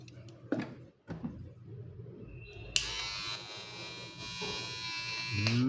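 An electric hair clipper, an NG-317 or Kemei 2299 model, switches on partway through and hums with a steady, fairly quiet buzz after some handling noise.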